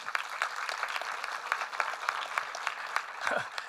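Scattered audience clapping at a community gathering, sparse individual claps ticking along fairly faintly with a brief voice near the end.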